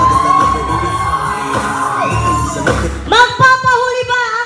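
Party guests at a first-birthday celebration at an events place in Taytay, Rizal cheer and whoop loudly when a host prompts them, a crowd roar with shouts that swells near the end.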